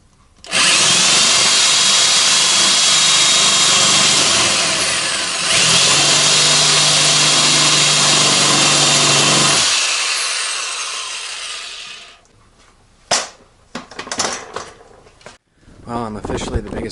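A power drill whines at high speed close up, boring through metal during a car rail installation, with a steady loud run that briefly dips and resumes, then stops, followed by clattering handling noises.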